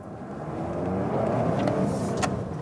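Volvo V60 Cross Country engine under full throttle with ESC switched off, a steady broadband roar that swells slightly as revs climb, close and fairly loud with no voices.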